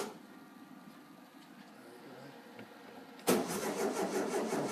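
1952 MG TD kit car engine with fuel starvation, quiet at first, then the starter cranks abruptly and loudly in a rapid rhythmic churn that carries on to the end without catching.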